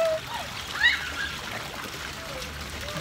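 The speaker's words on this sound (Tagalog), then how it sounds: "I'm swimming, swimming, swimming." Seawater splashes and trickles faintly around a child swimming at the beach, with a soft burst of splashing near the start and a voice in the background.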